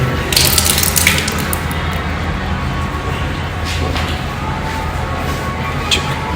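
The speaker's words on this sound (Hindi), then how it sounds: "यहाँ पानी बह रही है तो मैं उसे बंद कर देता हूँ पहले नल को" Water runs steadily from a household tap, a loud continuous rushing hiss with a few brief splashes and drips, and no talking over it.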